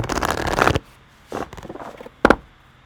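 A large deck of spirit oracle cards is shuffled by hand, close and crisp: one long riffling burst, then two shorter flicks, with quiet pauses between.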